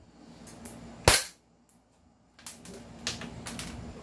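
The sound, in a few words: upgraded Glock airsoft pistol firing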